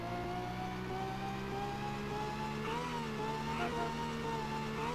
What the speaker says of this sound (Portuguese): Vamos acelerar aqui, vamos ver quanto.